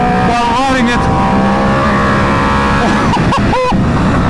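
A BMW S1000RR sport motorcycle being ridden, its engine loud and close with rising and falling revs, sharp throttle blips near the end, and a voice talking over it.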